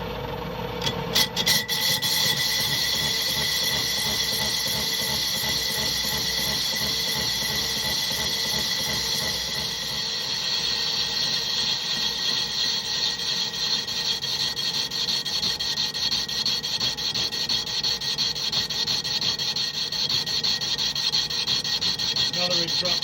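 Lathe taking a heavy cut with ISCAR carbide inserts, a steady loud grinding rasp of tool on metal with a sustained whine, continuous and close, beginning with a brief burst of irregular chatter.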